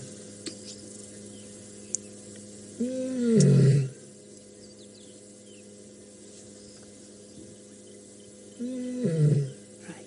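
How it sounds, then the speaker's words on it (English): A lioness on a safari drive at Nkuhuma lets out two deep, throaty roars several seconds apart, close and loud over a quiet background hum, with no talking. "Are you going to roar again?"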